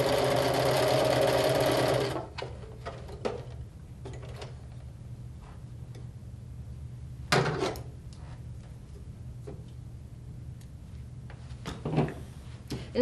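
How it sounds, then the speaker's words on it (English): Sewing machine running steadily for about two seconds while chain piecing fabric pieces, then stopping; afterward only faint handling clicks and a couple of soft thumps remain, close by. "put these two together. And this is called chain stitching"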